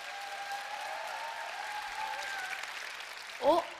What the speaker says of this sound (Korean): 내려가라는 박수 같은데요?